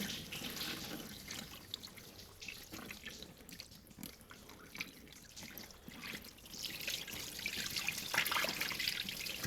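Water poured and rinsed over brake parts to wash off spilled brake fluid during a brake job on a 2009-2013 Infiniti G37x, a steady splashing trickle running continuously and swelling louder near the end.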